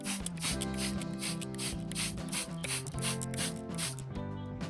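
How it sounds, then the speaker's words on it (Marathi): Spray bottle misting water onto fenugreek and mung microgreens growing in cocopeat, heard as a quick run of soft, evenly spaced spritzes, about ten bursts in steady rhythm, fairly close and faint with no talk. "स्प्रेनं कसं हलका हलकाच पाणी आपण स्प्रे करणार आहोत"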